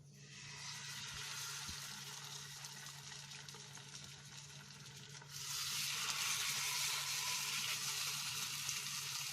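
Karimeen fish shallow frying in coconut oil in a pan, a steady sizzle that grows noticeably louder and brighter about halfway through, with no talking.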